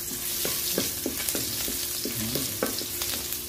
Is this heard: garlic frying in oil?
yes